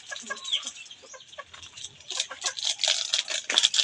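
Chickens cluck and murmur close by in a steady, busy chatter of short calls, fairly faint, with no talk over them.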